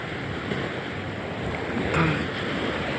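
Steady broadband wash of sea surf rolling in at Barangay Bayabas, Cagayan de Oro City, continuous and fairly loud, with wind buffeting the microphone and a slight swell near the middle.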